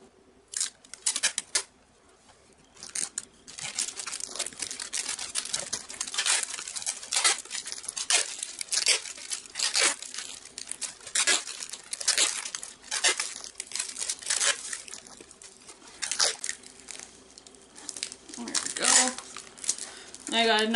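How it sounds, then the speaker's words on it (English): Tape pulled and wrapped around a sword pommel during sword making, giving a long run of close, crinkly tearing and sticky rasping bursts with short gaps. "But you do want to tape the pommel. Make sure it's nice and taped"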